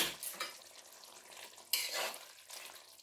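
Ghee and garam masala go into a simmering potato paneer curry in a kadai, giving a soft sizzle with a few louder bursts of hissing and light stirring scrapes, fairly faint overall.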